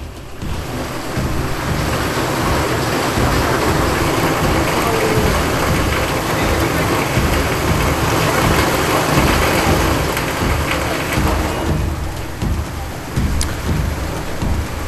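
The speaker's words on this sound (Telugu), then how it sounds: "హైదరాబాద్లో పలు చోట్ల భారీ వర్షం కురుస్తోంది." Heavy rain pours down across Hyderabad, a dense, steady roar of falling water that stays loud throughout and eases slightly toward the end.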